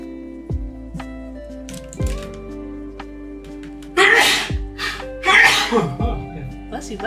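Two loud, close sneezes burst out about a second and a half apart, ringing over a steady hum of sustained background tones.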